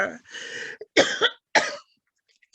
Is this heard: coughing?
yes